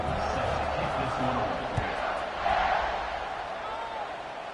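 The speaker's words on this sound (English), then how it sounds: "this crowd is buzzing after that last score" Football stadium crowd during a Pittsburgh game in the fourth quarter, a loud continuous roar of many voices that swells briefly and then holds steady, with a commentator speaking over it.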